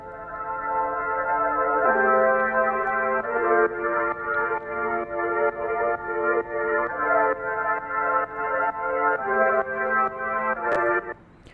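Synth pad in an Ableton trance track heard without its endless smile effect, a sustained retro-sounding chord layer with shifting notes and steady rhythmic pumping, loud and alone with no voices.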